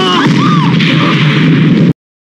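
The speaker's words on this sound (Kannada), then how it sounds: "ಬಾಂಬ್ ಬಿಟ್ಟು ಪ್ರತಾಪ್ ಲವರ್ನು ಸಾಯಿಸ್ತಾರೆ." A loud, roaring bomb explosion in a film rumbles continuously with whistling tones layered on top, then cuts off abruptly into silence.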